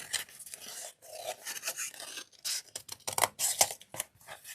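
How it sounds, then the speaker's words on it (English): Scissors snip through soft material in a series of close, crisp crunching cuts with uneven rhythm, some strokes longer and rasping, heard alone without talk. "The scissors aren't cutting it because it's a bit soft, I think."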